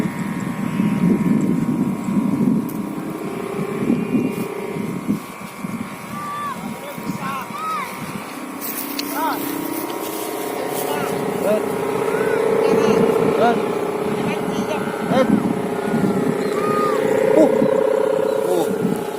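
A Madurese kite's hummer gives a steady, humming drone on the wind while people talk nearby, the tone swelling and wavering throughout.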